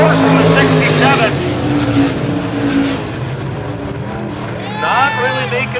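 IMCA stock cars racing at McLean County Speedway, a loud continuous roar of engines close by and sweeping past, with an announcer calling the race over it.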